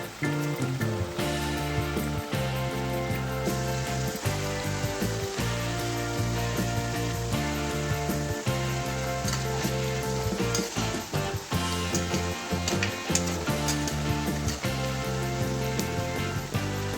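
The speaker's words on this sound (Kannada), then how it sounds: "ಈಗ ಒಂದೊಂದಾಗಿ ಇವನ್ನೆಲ್ಲ ಬಿಟ್ಬಿಟ್ಟು ಮೀಡಿಯಂ ಉರಿಯಲ್ಲಿ ಚೆನ್ನಾಗಿ ಫ್ರೈ ಮಾಡ್ಕೋಬೇಕು" Spicy shankarpoli fry in hot oil over a medium flame, giving a continuous, dense sizzle and bubbling that run steadily over a backdrop of tonal background sound.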